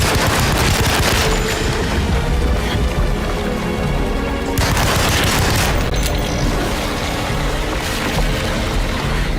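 Loud, continuous gunfire and booming blasts from the video game Alone in the Dark fill the whole stretch, dense and relentless with a brief dip midway, with no clear talk over it.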